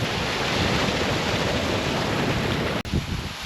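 Steady, broad rushing water fills the whole clip, a continuous loud roar like a nearby waterfall on the Black Mountain, with a brief dropout near the end.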